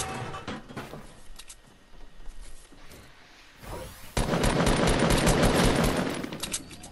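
Video game gunfire, scattered shots early giving way to a loud, sustained burst of rapid automatic fire over the last few seconds, close and dense.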